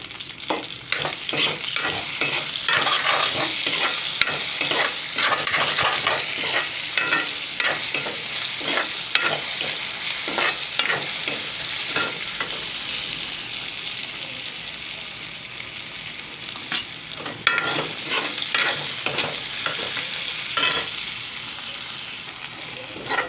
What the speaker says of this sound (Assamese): এইখিনি তেলতেই আকৌ পিঁয়াজ আৰু নহৰু আদাখিনি দি ভাজি লওঁ।